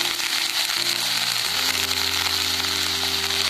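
Cauliflower pieces with cumin seeds fry in hot oil in a kadhai, giving a loud, steady sizzle that carries on without a break and without talk.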